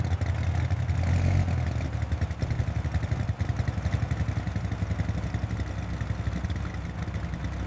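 A 1937 Cord 812 Supercharged Phaeton's engine runs steadily close by, a loud, dense, rumbling idle with clattering texture and no voices.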